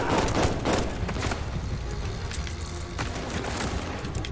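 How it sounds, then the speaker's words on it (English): Rapid gunfire bursts from a Call of Duty: Vanguard campaign firefight on Xbox Series X, loud and dense over about four seconds, with heavier volleys near the start and dull booms beneath. "Ah, I'm getting shot too."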